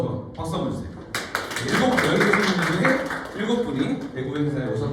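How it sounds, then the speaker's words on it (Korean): Audience applause rises about a second in and keeps going at a company gathering during a quiz segment, a dense wash of clapping mixed with voices and chatter over it. "박수 한번 주세요"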